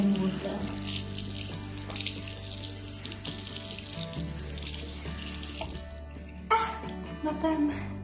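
Lukewarm water runs steadily from a tap, splashing as skin is rinsed, with music playing underneath and the flow changing near the end.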